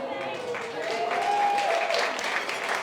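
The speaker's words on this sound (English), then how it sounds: "But don't clap just yet." Wedding guests clap in steady applause at a reception, a dense continuous patter that holds for about three seconds with a faint voice or tone running beneath it.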